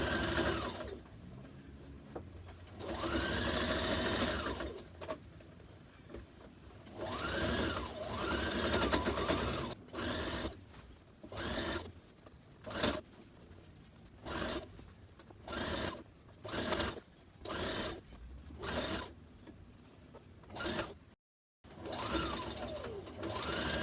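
A sewing machine top stitches a seam on a red zip-front jumpsuit in repeated bursts, long runs at first and then many short stops and starts, close and alone.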